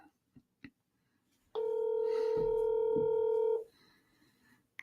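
Touch-tone keypad beeps during a phone call: two short quiet taps, then one long loud steady dual tone held for about two seconds, followed by a faint line hum, no voices.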